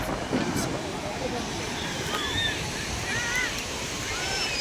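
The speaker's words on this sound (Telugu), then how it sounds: "కొత్తపట్నం బీచ్ సముద్రం" Sea waves wash continuously onto Kothapatnam beach near Ongole, a steady broadband surf roar with wind buffeting the microphone, while people talk and shout nearby over the water.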